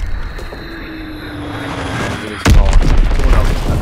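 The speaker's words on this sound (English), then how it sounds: "Enemy recon aircraft in the air." Enemy bomber aircraft passing overhead in the World War II shooter Call of Duty WW2, a steady engine drone that swells, then a heavy boom and rumbling blast take over near the end.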